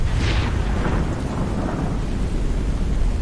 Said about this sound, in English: I heard a boom. No, I guess that was just thunder.